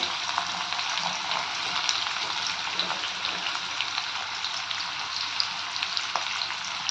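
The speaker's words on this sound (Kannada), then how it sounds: "ಈಗ ಸ್ವಲ್ಪ ಜೀರಿಗೆ ಫ್ರೈ ಆದ ತಕ್ಷಣ ನಾನು ಅದಕ್ಕೆ ಆನಿಯನ್ ಹಾಕ್ಕೊತಿದ್ದೀನಿ" Onions with cumin seeds fry in a hot pan, giving a steady, dense sizzle that crackles evenly and close up throughout.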